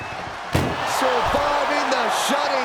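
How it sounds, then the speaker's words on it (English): A heavy ambulance door slams hard once in a WWE SmackDown arena, followed by struggling thuds against it as a commentator talks over the rising crowd noise. "Trying to force the first door closed."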